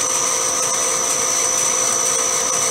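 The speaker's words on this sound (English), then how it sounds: "So we just keep drilling that all the way through." A half-inch hole being drilled through a four-inch metal part in a motorcycle workshop, a steady loud whine with high tonal ringing held without a break throughout.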